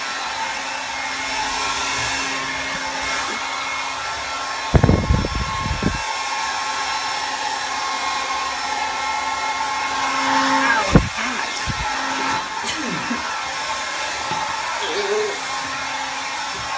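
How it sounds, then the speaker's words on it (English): Handheld hair dryer blowing hair, a steady loud whoosh running continuously close by with brief bumps and handling noises partway through. "let me blow dry my hair"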